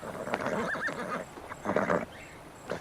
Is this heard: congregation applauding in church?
no